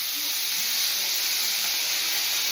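Bacon grease left over from microwaved bacon sizzles steadily in a hot pan, a continuous bright hiss without pauses and no clear individual pops.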